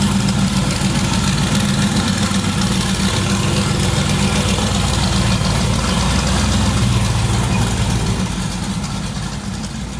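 A car engine idles steadily before setting off, a low continuous rumble that holds constant throughout and eases slightly near the end, with no talking.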